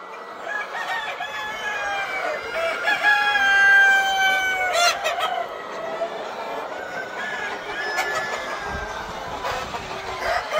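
Chickens and roosters of a classic hybrid laying breed crowd a commercial poultry farm, with a steady din of clucking and several drawn-out crows overlapping throughout.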